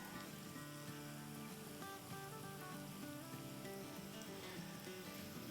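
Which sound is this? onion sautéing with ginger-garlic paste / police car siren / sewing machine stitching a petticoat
onion sautéing with ginger-garlic paste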